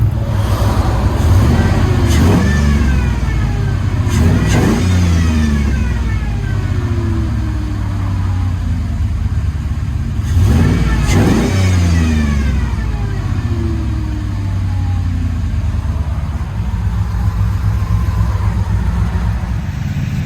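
A 1974 International Scout's engine with a Dynomax Race Bullet exhaust rumbles steadily, then revs up sharply in a few rising bursts with a raspy, throaty note, heard close from inside the vehicle.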